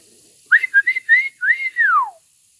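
A person imitates a turkey call with a short series of clipped whistled yelps ending in a long, falling note, close and alone.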